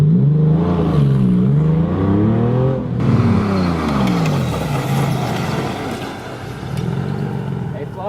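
A Porsche accelerates to 40 mph for a brake test, its engine note rising in several shifting sweeps, loud and close, with a brief rush of noise partway through.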